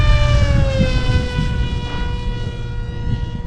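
A 1200 mm RC flying wing on a 4S battery screams at full throttle on a windy day, a loud steady electric motor and propeller whine with rising harmonic tones over constant wind rumble.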